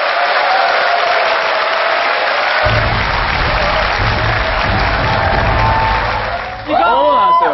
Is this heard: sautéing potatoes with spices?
no